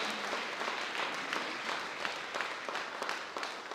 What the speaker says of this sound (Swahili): Pigia Bwana makofi kila mmoja